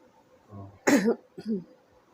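A few close, harsh coughs in quick succession, a strong burst followed by a shorter one, with a soft murmur just before.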